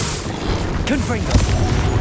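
A Confringo fire spell goes off in the video game Hogwarts Legacy, a sudden blast with a booming crack near the middle. It rises over a busy bed of combat noise, and a voice speaks around it.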